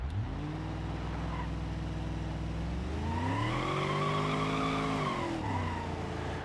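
A Blue Buck car in BeamNG.drive holds a long burnout, its engine droning then revving higher while the tires squeal steadily, loud and close with no talk.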